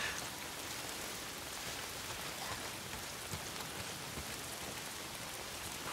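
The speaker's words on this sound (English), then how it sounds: "Why is it always raining?" Steady rain pouring down in the video game Days Gone, a dense continuous hiss of drops hitting surfaces, even and unbroken.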